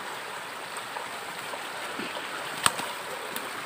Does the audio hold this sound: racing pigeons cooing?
no